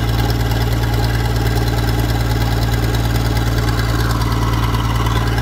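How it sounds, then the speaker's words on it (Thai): An Isuzu 6BG 175 hp diesel engine idles on a tow recovery truck, giving a steady, loud, low rumbling drone with a constant throb and no pauses. "เครื่องยนต์นะครับเป็นเครื่องยนต์อีซูซู 6BG 175แรงครับ"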